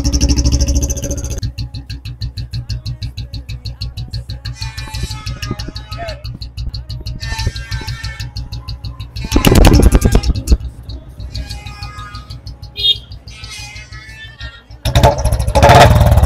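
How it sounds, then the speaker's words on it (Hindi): A Royal Enfield Bullet motorcycle runs loudly up close, its engine thumping steadily; near the middle come louder bursts of exhaust as the throttle is released, followed by further revving. "ये चेक करिए जब रेस छोड़ने के बाद करते हैं ना शुक शुक।"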